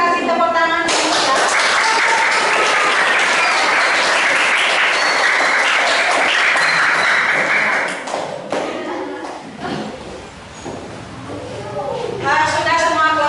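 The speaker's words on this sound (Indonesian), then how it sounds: "Silakan kasih tepuk tangan dulu ya." Sustained applause from a classroom full of people after a group presentation, steady clapping for several seconds before thinning out, with voices coming back in near the end.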